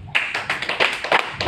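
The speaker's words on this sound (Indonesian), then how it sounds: "Tepuk tangan dulu dong" An audience claps at a seminar on systems and income, with a handful of bursts spaced roughly a third of a second apart, close and fairly loud. The claps sound sparse and scattered rather than a full roar.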